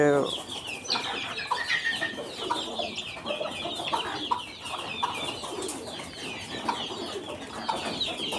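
Free-ranging rooftop backyard hens and their newly hatched chicks cluck and peep together while being fed, a busy overlapping chorus of high chick cheeps and lower clucks, close and continuous.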